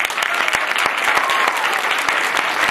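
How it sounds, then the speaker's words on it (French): An audience at a film festival applauds in a dense, steady burst of clapping that fills the room for a few seconds, with no voices over it. "Je vous invite à les applaudir d'ailleurs."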